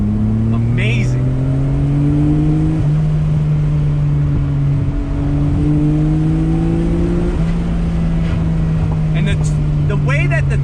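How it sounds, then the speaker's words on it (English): A 1993 Nissan Skyline GT-R R32 V-Spec straight-six pulls hard from inside the cabin, its steady rising drone climbing through the gears with brief shift dips, loud and continuous throughout. "And the sound of that straight six, God,"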